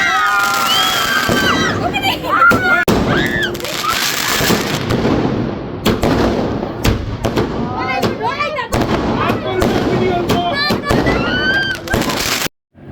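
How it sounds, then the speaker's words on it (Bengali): Fireworks set off from a rooftop during a winter New Year celebration, with repeated bursts, pops and crackles over about twelve seconds, loud and close, while a crowd of people talk and cheer throughout. "সবাই মিলে আমরা আবার অন্য আরেকটা আতশবাজি ফুটালাম"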